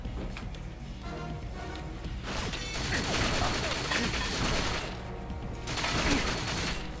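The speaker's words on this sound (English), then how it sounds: "shooting the fire extinguisher multiple times doesn't do a damn thing" Repeated gunshots fired at a fire extinguisher in the video game GoldenEye Reloaded ring out amid busy in-game noise and music, coming in dense bursts at a fairly steady loudness.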